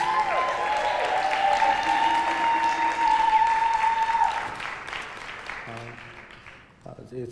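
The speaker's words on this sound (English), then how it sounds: "Clap it up for your pastors." A church congregation applauds steadily for several seconds under sustained music. The clapping then fades, leaving scattered sounds near the end.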